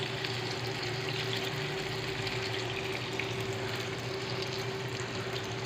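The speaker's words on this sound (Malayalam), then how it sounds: "നമുക്കിനി ഓരോന്നോരോന്നായിട്ട് വറുത്തെടുക്കാം ഗൈസ്" Bhatura dough frying one at a time in hot sunflower oil, giving a steady, dense sizzle and bubbling that stays loud and even throughout, with a low hum underneath.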